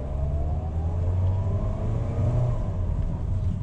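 A 2023 Mitsubishi Xpander GLS accelerates from inside the cabin, its engine a steady droning rumble with rising tones as revs climb, close and continuous with no talking.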